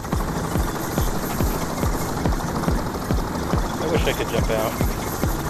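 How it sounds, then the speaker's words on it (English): A police helicopter circling a building in the heist video game Payday The Heist, its steady rhythmic rotor thumping continuous in the background while a person speaks briefly over it. "I see a police helicopter circling the building."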